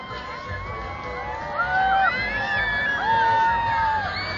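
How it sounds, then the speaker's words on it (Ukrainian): Spectators in the stands at Zbarazh's anniversary celebration cheer and shout together, a sustained crowd roar with whoops and rising voices swelling twice. "На трибунами пролетів літак, і трибуни вітають його оплесками."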